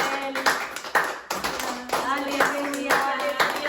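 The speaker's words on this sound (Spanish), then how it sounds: "Démosle un fuerte aplauso a nuestro Dios," A church congregation claps during a worship service, the claps coming in uneven bursts that carry a bright reverberant ring, and voices are heard alongside them.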